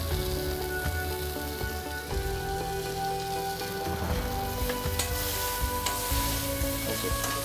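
Prawns and eggplant sauté on a slow fire with a steady, rain-like sizzle and spatter, plus occasional stirring knocks, close and continuous with no speech.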